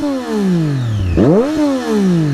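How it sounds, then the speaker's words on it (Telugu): A Triumph Daytona 675 motorcycle with a loud SC Project exhaust revs hard up close. Its engine pitch climbs and falls in sweeping surges, with a sharp blip in the middle. "ఇప్పుడు మీకు దీని బైక్ సౌండ్ వినిపిస్తాను చూడండి"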